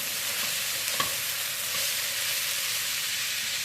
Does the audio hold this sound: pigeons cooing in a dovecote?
no